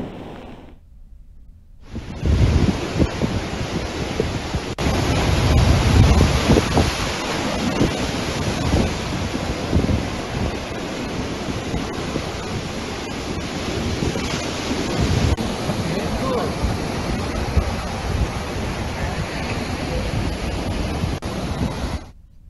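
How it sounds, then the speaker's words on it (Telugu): Rough sea surf pounds the Uppada coast as a cyclone approaches, with gusty wind buffeting the microphone; a steady, loud roar of crashing waves and wind continues for the whole stretch without anyone talking. "ఉప్పాడ సముద్ర తీర ప్రాంతంలో ఈదురుగాలు గంటకు కూడా పెరుగుతున్న పరిస్థితి"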